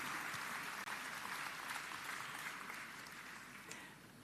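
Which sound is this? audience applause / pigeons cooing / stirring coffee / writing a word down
audience applause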